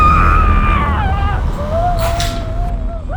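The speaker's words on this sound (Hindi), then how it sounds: "ये भी ना बहुत चिल्लाने लगी है।" A woman screams in a Hindi crime re-enactment drama, a loud, sustained wailing cry that slides downward, followed by a second long, wavering scream over a steady low background rumble.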